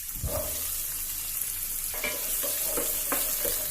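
Sliced onion and carrot frying in the same pan used for browning beef, a continuous close sizzle broken by several light stirring scrapes and knocks, with no voices.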